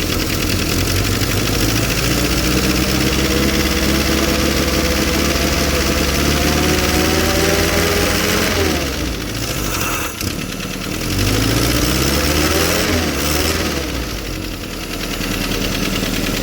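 A Willys CJ-2A jeep engine idles while warming up, a loud, close, steady rumble with a slightly uneven knock, dipping briefly as the revs waver midway before settling again.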